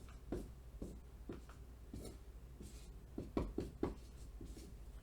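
Pen or marker writing out a math equation for solving a logarithmic equation, with short scratchy strokes in irregular bursts, fairly faint and close, with no talking over it.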